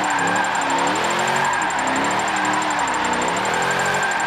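Engine of a 2003 Hoonigan Holden Commodore drift build in Forza Motorsport 7, revving loudly and steadily with its pitch rising and falling under throttle, close and alone with no talk.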